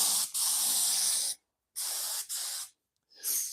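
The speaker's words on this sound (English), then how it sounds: "Let me adjust the paint here a little bit, get a little bit wider spread." A paint spray gun on a CNC machine coating steel parts for a welding table, three loud close bursts of hissing spray separated by short silences, the first two longer and the last brief.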